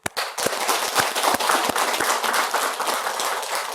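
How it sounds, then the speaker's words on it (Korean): Listeners at a Buddhist dharma lecture clap together in steady, fairly loud applause that starts sharply and continues evenly throughout. "네, 박수 한번."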